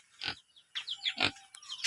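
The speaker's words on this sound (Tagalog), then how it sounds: "may isa akong baboy dito." A pig grunts and snorts nearby in a few short, rough bursts with brief pauses between them.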